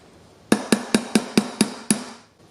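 A brass hammer strikes a punch seven times in a steady rhythm while an AR-15 barrel is installed on an upper receiver; the sharp, ringing metallic blows are close, with nothing else heard around them.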